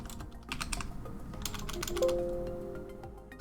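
Fast, close computer-keyboard typing of a command in steady bursts, with a short electronic tone sounding partway through and no speech.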